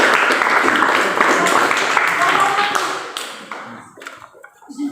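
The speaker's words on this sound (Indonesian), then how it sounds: "tepuk tangan untuk kelompok" A classroom group gets a round of applause after its presentation, a dense burst of many hands clapping that holds for a few seconds, then thins out into scattered claps and quiet.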